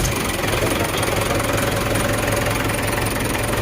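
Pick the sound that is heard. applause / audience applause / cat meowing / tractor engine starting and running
tractor engine starting and running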